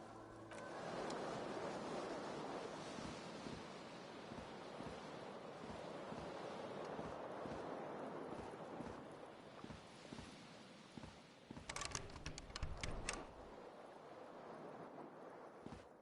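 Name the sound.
cool wind gusting in, from the video game Disco Elysium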